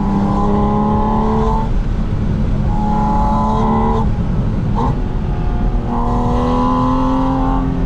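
A 2025 Porsche Spyder RS engine pulls hard while driving, its loud tone climbing through the revs, easing briefly and climbing again in repeated surges, with a steady rumble of road and wind underneath.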